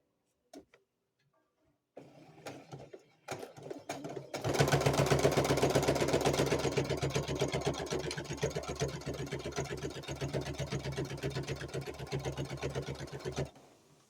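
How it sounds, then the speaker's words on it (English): Domestic sewing machine with a size 16 needle stitching quilt strips, a few clicks before it starts, then a fast steady mechanical rattle running for about nine seconds up close before it stops. "you want to make sure your needle's down before you start your machine because that will hold your material in place"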